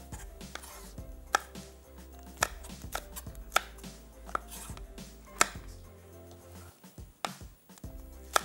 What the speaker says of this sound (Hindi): तकरीबन 3 से 4 अदद मोटी हरी मिर्च लंबाई में काट लें